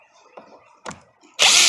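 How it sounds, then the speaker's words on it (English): A few faint mechanical clicks and handling noises, then a loud electric drill driving a Torx bit bursts into a steady whir at the end, while changing the solenoid pack on a 2010 Dodge Ram 1500 5.7 Hemi. "electric drill actually had this Torx bit that I could use"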